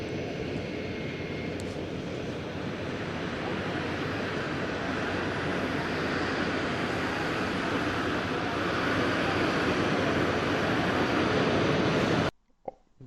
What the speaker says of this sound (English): You can hear all the plane sound